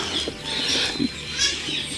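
Pigeons from a German breeder flap their wings close by in a loft, soft repeated fluttering with faint cooing, no voices.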